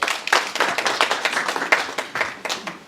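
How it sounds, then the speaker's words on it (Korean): An audience at a startup talk event claps to welcome the host, dense steady applause close by throughout, with no talk over it. "큰 박수로 맞이해 주시길 부탁드리겠습니다"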